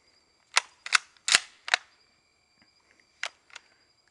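Several sharp gunshots ring out from a circa-1942 Mauser rifle, four close together and then two more after a pause, each a loud crack with a short tail, and no speech between them.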